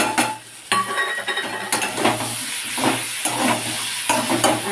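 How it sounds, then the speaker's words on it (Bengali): Vegetables fry and sizzle steadily in a pan for a vegetarian Bengali dish while a utensil stirs and presses them, scraping and knocking against the metal in repeated strokes, close and fairly loud with no talk. "ভালো করে নাড়াচাড়া করতে থাকবো আর চাপা দিতে থাকবো"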